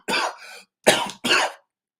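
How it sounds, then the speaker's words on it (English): A man coughs three times in quick succession, close and loud, with no other sound around the harsh bursts. "I've really made myself cough there."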